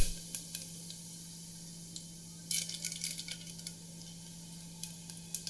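Cumin and pepper tossed into a hot pan for pongal crackle and sizzle faintly, with scattered small pops and clicks of spices and utensil over a low steady hum.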